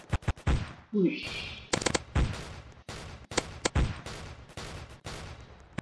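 The Annihilator gun fires in Roblox Zombie Attack as a string of sharp, loud shots in irregular bursts, close and punchy, with a short spoken exclamation and a brief game sound between volleys.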